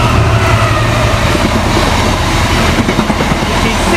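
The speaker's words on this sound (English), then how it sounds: "here comes our final freight train" A long freight train hauled by a class 66 locomotive, running from Banbury to Tunstead, passes close at speed, a loud steady roar of wagons with clattering wheels and rail rhythm throughout.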